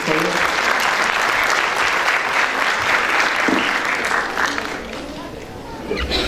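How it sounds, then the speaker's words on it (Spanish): Audience applause for a speaker at a hospital administration congress, loud and sustained for about four seconds before thinning out, with crowd voices mixed in. "Un aplauso para él"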